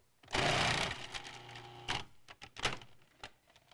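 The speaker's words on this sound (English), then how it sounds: "Replace the pusher and with firm pressure slice using the pulse-off lever." A Cuisinart food processor slicing onions in short pulses: a loud motor whir for about half a second, then softer mechanical rattles and a couple of brief buzzing bursts, close and without talk.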